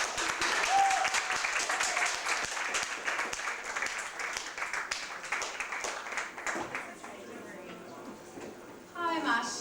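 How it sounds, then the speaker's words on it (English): Crowd at a poetry night claps to welcome the next poet, a lively burst of hand claps with some voices mixed in, thinning out toward the end as a person begins to speak. "please welcome our next poet with a big round of applause."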